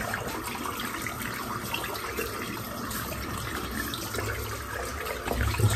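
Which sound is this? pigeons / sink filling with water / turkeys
sink filling with water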